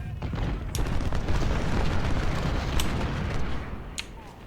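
Cannon batteries firing in Ultimate General: Civil War rumble in continuous deep booms and distant artillery thuds, with a few sharp crack-like reports standing out over the steady barrage.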